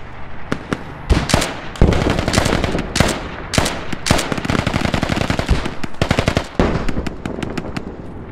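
Dense bursts of automatic rifle and machine-gun fire in the military shooter Squad, with rapid rattling volleys, sharp single cracks and overlapping near and distant shots over about eight seconds, no voices.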